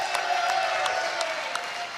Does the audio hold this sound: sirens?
no